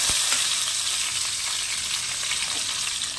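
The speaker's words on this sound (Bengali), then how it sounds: "এবারে আমি কড়াইয়ে একটু ফোড়ন পেঁয়াজ কেটে দুটো কাঁচা লঙ্কা দিয়ে দিলাম" Sliced onions and two green chillies sizzle loudly in hot oil in a wok, a continuous close-up crackle with a few sharp pops and stirring noises.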